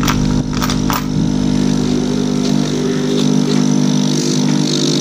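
A Yamano AP-08W aerator runs at full power, giving a loud, steady mechanical drone with a low hum and a broad noisy hiss, constant throughout apart from a few brief rattling clicks near the start.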